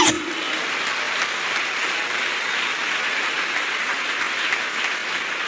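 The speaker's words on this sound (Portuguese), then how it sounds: "Você pode aplaudir a Jesus aqui?" Sustained applause from a church congregation fills a worship service, a loud, even roar of many hands clapping together after a brief sharp onset.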